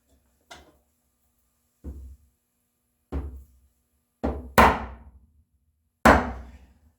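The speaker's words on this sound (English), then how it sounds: "Now I'm going to come in with my wide chisel, register against that previous cut I've had before." A wide hand chisel cutting a dado wall in walnut: six sharp, separate knocking strikes at uneven intervals, each decaying quickly, the later ones louder and closer, with no voices.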